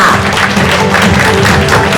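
Audience applause at a stage event opening the Phenix commercial wholesale project in Thailand, welcoming Deputy Prime Minister Anutin Charnvirakul, a steady dense patter of many hands clapping throughout at close range with a faint murmur.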